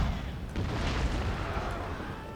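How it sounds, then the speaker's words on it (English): Cannon fire in the strategy video game Shogun 2: Fall of the Samurai comes as a dense, low rumbling boom with sustained roar, fairly loud and continuous, without talk. "Fire the cannons at this clump here."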